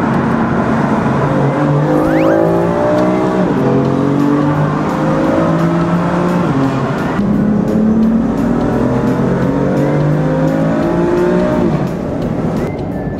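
A loud BMW M4 Coupe engine roars and revs continuously in a tunnel, rising and falling through gear changes, with a full, reverberant drone.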